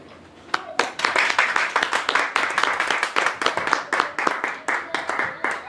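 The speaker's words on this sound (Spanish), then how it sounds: "un aplauso para ellos" A small audience claps at a kindergarten graduation ceremony, starting after a short pause and settling into a brisk, even rhythm of distinct, close hand claps that continues to the end.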